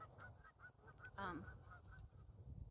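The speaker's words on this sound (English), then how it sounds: "Geese are distracting me." Geese honk outdoors in a short burst of calls, one loud honk standing out near the middle over steady background noise, with a few fainter honks around it.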